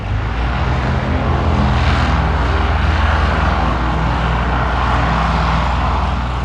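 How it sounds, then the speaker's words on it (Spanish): Combat aircraft engines of the Condor Legion sent to support Franco's forces over Vizcaya during the Spanish Civil War, heard as a loud, steady, continuous droning roar with no break. "Contaba para ello con un centenar de aviones de combate, técnicos y pilotos que Hitler había enviado en apoyo de Franco, la Legión Cóndor"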